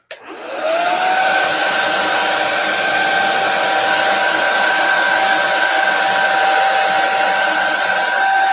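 A handheld hair dryer blows on a chalk-painted fabric strip banner. After a short click-on it holds a steady, close, continuous whirring whine with a high tonal hum, alone and unbroken.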